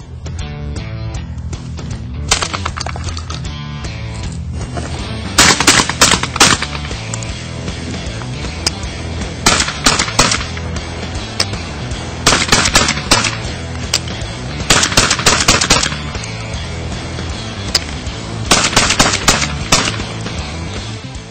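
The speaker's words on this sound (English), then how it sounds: "I've fired as many rounds in a single day through my Xtrema2 as most shotguns will see in a lifetime." A Beretta Xtrema2 semi-automatic shotgun fires in repeated bursts of loud, sharp reports, several quick shots per group at intervals of a few seconds, over a steady background of music.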